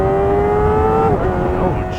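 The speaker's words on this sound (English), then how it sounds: "You get a symphony of this inline 4 without, oh yeah, I don't have to manually downshift because I turned the quick shifter back on." A Kawasaki ZX-4RR inline-four engine revs with a loud, close, high whine that holds, then drops in pitch as the quick shifter downshifts.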